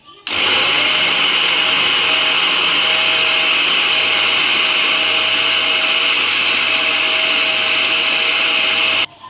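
A blender runs loud and steady, grinding chicken with soy sauce and red chili sauce into a smooth paste for nuggets, starting abruptly and stopping near the end.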